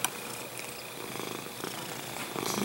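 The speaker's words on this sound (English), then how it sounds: "Listen to this purr." A cat purrs close up during a paranormal investigation in Paradise, California, a soft continuous rumbling purr with faint background noise.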